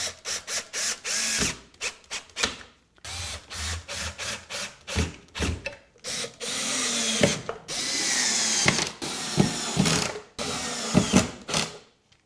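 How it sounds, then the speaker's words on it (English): A power drill drives 1 1/4 inch screws into 3/4 inch melamine in a series of short, loud whirring bursts separated by brief pauses, with ratcheting clicks of the screws seating and no talking. "now I'm just going to use some 1 1/4 screws"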